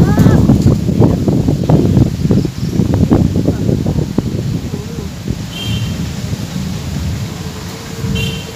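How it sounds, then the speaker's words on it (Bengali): Storm wind gusts through garden trees outdoors, leaves rustling loudly and continuously in the open air, while voices talk over the gusts in the first half and the wind carries on alone afterward. "এর মধ্যে ঝড় বৃষ্টি শুরু হয়ে গেল"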